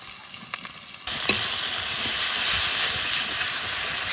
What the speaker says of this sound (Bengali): পেঁয়াজ একটু ভেজে নিয়েছি, এবার আদা রসুন বাটা দিয়ে দেবো।